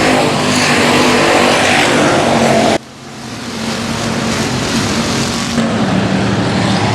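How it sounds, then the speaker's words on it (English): Race cars roaring around the Boothill Speedway dirt track, a loud continuous engine blare that drops abruptly partway through, then builds back up as more cars pass close by. "Every time he drives it to the inside of the 34, Burke able to make that car storm off the corners"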